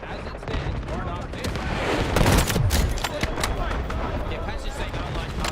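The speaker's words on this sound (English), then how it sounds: "Artillery barrage incoming." An artillery barrage in a multiplayer war video game sounds as dense, continuous rumbling explosions and crackling fire, heaviest in the middle, close and loud, with faint voices underneath.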